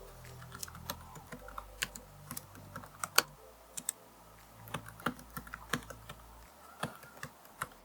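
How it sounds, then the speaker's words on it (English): Fingers type on the keyboard of an ASUS Zenbook Flip S UX371 laptop, producing quiet, irregular keystrokes between clicky and soft, with occasional sharper taps standing out over a low hum and no talking. "The keyboard is something between clicky and soft."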